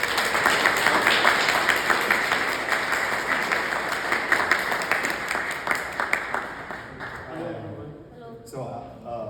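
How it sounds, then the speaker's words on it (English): A museum audience at an evening art and Buddhist practice event applauds the guest in a dense, steady wash of clapping that fades after several seconds, when a voice begins speaking. "I would ask you to join me in giving a round of applause for our guest tonight."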